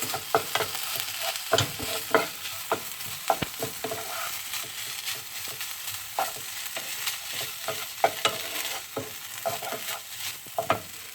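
Pineapple fried rice tossed and stirred in a hot pan, with a steady sizzle under repeated scraping strokes of the spatula in an uneven rhythm, close and fairly loud, no talking.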